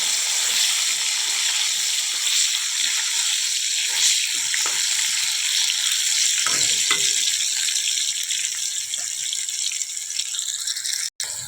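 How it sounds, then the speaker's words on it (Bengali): Pointed gourd (potol) pieces frying in oil, a loud, dense and continuous crackling sizzle throughout with faint rattles of stirring. "দেখো পটলটাও একইভাবে ভেজে নিচ্ছি"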